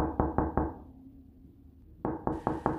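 Knocking on a door comes in two bursts, first three and then four sharp raps close by, with a brief quiet pause between them.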